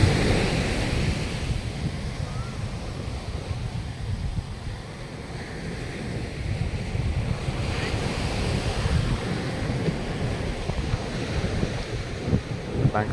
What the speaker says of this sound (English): Kind of windy tonight.